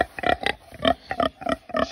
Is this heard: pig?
yes